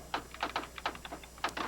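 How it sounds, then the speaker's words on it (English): Keys are struck on a typewriter in a 1985 demonstration, a quick irregular series of light, crisp clacks close by and fairly faint, with no talking. "I'll type it on the typewriter."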